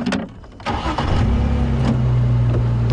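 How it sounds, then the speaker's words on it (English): A safari drive vehicle's engine turns over and settles into a steady, close idle with a low hum, heard alone without talk. "put the car into low range so the engine makes a lot less noise"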